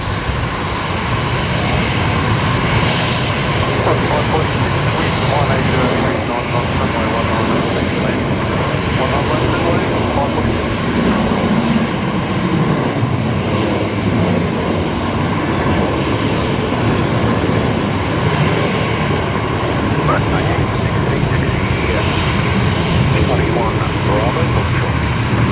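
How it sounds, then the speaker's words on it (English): Velocity 352, a jet airliner, begins its full-length takeoff roll on runway 19 left at Brisbane Airport, a loud, sustained engine roar that stays strong and steady throughout. "Next departure, velocity 352 is actually just beginning its takeoff roll. Full length off of runway 19 left."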